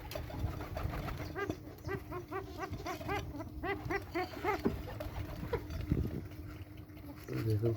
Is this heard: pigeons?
yes